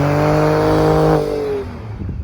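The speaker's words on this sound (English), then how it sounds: "this is what my Ford Raptor sounds like" A Ford Raptor's twin-turbo engine and exhaust hold a steady, loud harmonic drone that shifts pitch as revs fall away, then settles into a rougher, quieter idle rumble.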